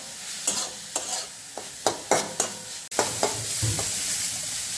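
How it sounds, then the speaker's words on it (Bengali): Chicken pieces coated in spice masala are stirred and cooked in a pan over sizzling heat, with sharp spatula scrapes and knocks at an irregular rhythm over a constant close hiss. "এবার সব কিছুকে সুন্দর মতো রান্না করতে থাকবো"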